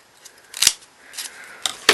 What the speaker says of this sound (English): you could get your Martha Stewart fringing scissors, and you could add a fluffy little fringe